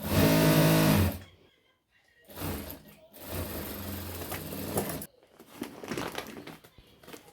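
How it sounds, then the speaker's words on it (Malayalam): Sewing machine stitching a seam on a handmade storage bag, bursts of rapid mechanical whirring with short pauses between runs, loud and close. "ഒരു അടിപ്പും കൂടെ നമുക്ക് അടിച്ചു കൊടുക്കാം. 2 അടിപ്പ് അടിക്കണം"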